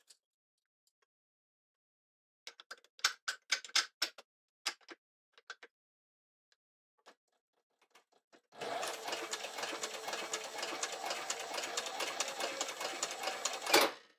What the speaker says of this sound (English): Chris, do you like to sew with your cap off?